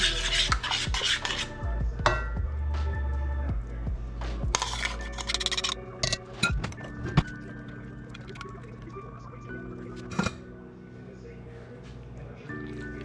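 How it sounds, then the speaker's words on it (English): Egg noodle fettuccine being folded into a homemade cheese sauce in a stovetop pan for chicken fettuccine, with repeated utensil scrapes and clinks against the pan, steady and close, running under an ongoing voice. "we're just going to mix that in, fold it all together"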